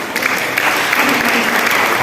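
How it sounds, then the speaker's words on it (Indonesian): A church congregation at a Sunday service claps loudly and steadily, a dense wash of applause filling the short moment without pause. "Ya, tepuk tangan dong."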